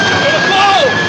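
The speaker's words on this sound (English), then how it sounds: "Knows the sound an airplane makes before it's about to explode?" A droning airplane engine sound effect from a 1940s Batman serial, a loud continuous tone with a wavering pitch, while a voice talks over it.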